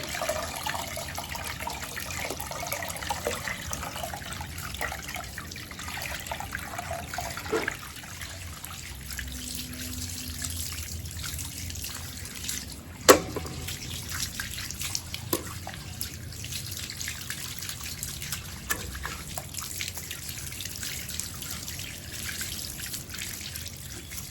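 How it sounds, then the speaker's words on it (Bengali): Rohu fish being washed under a running kitchen tap, a steady soft stream of water with occasional drips and splashes, with no talking. "এই যে দেখো এখন মাছ ধুতে চলে এসেছি আগের মাছের মাথা পরিষ্কার করে নিচ্ছি"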